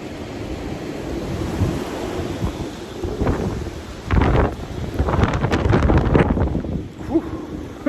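Strong wind blows across a farm on a cold day, a steady roar buffeting the microphone, with gusts swelling louder toward the end of the clip.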